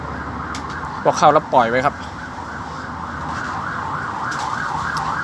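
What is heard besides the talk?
siren of a passing emergency vehicle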